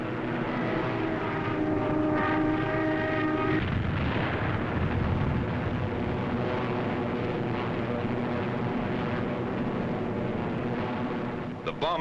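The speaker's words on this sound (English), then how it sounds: "The flight reforms and climbs to regain its position with the rest of the squadron." A WWII fighter flight climbs to rejoin its squadron, a loud sustained propeller engine roar that swells into heavy broadband rumble, with a narrator's voice running over it throughout.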